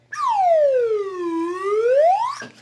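A voice wails a long, loud scream imitating a creature, swooping down in pitch and back up before cutting off sharply.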